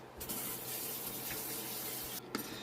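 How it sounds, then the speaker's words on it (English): Hands rinsed under a running kitchen tap while preparing cornbread, a steady close hiss of flowing water with a brief splash change near the end, no talk. "Let me rinse my hands."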